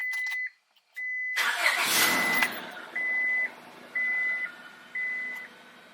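A car engine cranks and catches in a short loud burst, then idles quietly beneath a series of evenly spaced electronic chime beeps, heard up close from inside the vehicle with no talking.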